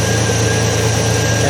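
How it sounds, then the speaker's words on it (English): A Buick 225 V6 in a Jeepster runs with a steady low engine drone and a faint whine, holding an even, loud tone with little audible rise from revving and no talking. "So I'm revving the motor up,"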